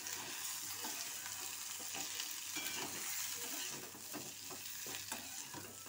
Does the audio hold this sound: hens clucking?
no